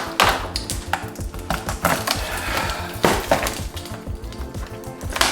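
Cutting open the cardboard packaging tube of an ASUS ROG Hone Ace Aim Lab Edition mousepad produces close, scratchy scraping and sharp tapping knocks in irregular bursts.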